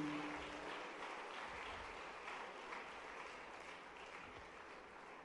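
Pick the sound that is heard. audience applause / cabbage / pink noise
audience applause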